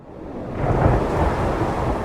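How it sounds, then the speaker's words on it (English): A thunderstorm with rain breaks over a jungle area, a deep rolling rumble swelling after a quiet start and holding steady beneath a broad wash of rainfall for the rest of the moment, with no voices. "Suddenly, the sky turned black. A storm and rain began to rain."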